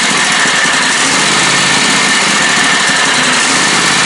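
A White Outdoor riding mower engine, revived after sitting unused for seven years, idles close by in a steady, buzzing, continuous drone with no talking.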